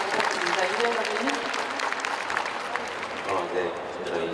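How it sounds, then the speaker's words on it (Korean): Audience applause at an open talk stage event at a film festival, a dense wash of clapping over a few seconds, with a voice speaking over it. "박수 부탁드립니다"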